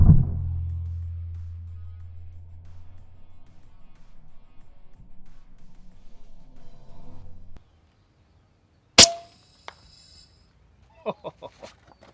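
A single sharp airgun shot during long-range hunting cracks out near the start and then rings off as a long low decay, followed later by a brief sharp impact and a few faint chirps.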